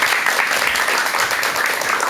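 A lecture audience applauds steadily, dense clapping filling the room at a loud, even level throughout.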